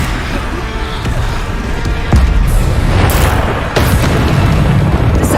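Bombarda explosion spell in the video game Hogwarts Legacy goes off with loud, booming blasts, a couple of heavy bursts rising over a dense rumbling game soundscape.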